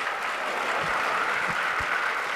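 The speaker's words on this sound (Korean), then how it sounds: "박수." Sustained crowd applause fills a hall at a provincial party members' convention during a candidate's speech, dense and steady for the whole stretch with no voices over it.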